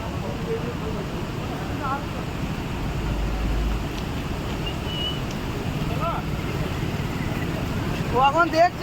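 Water rushes through an open gate of the Tilpara barrage at Suri. A continuous broadband roar fills the background at moderate loudness, with faint voices and bird chirps over it.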